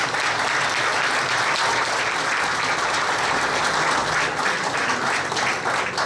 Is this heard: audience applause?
yes